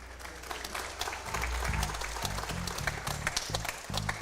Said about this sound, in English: quite a bit of applause here